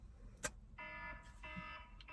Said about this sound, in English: It wasn't even that loud, the alarm.